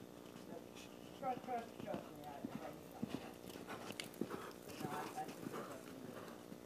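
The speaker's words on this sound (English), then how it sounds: "the horse cantered on a little bit faster" A horse canters in an upper-level dressage lesson, its hooves beating a soft rhythmic clip-clop on the arena footing while a person talks over it throughout.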